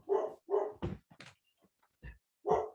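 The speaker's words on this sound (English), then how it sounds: "You can probably hear my dog barking." A dog barks in a series of close, loud woofs, three quick barks, then a short yip and a pause before two more, heard alone in a quiet indoor space.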